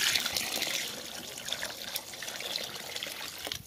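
Water poured from a jug into a pot of goulash soup, a steady close trickle and splash that runs the whole time and fades slightly toward the end.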